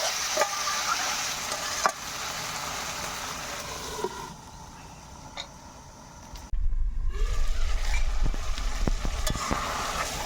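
Pangas fish cooks in spices in a pan, a steady sizzle with occasional stirring scrapes, then a sudden louder rumbling burst of frying partway through.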